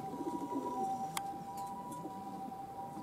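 Homing pigeons returning to the loft with a flock from other lofts: soft, low cooing in the opening moments, then a quiet background with a faint steady tone.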